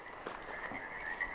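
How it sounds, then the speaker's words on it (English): A chorus of frogs croaks near a lake at Mount Rainier, a dense, continuous trilling heard from a moderate distance, steady and fairly faint. "I can hear a bunch of frogs going kind of crazy"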